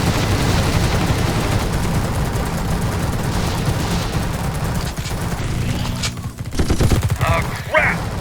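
Rapid futuristic plasma gun fire from the sci-fi squad tactics game The Red Solstice, a dense continuous barrage of loud shots with explosive bursts near the end and voices talking over the battle.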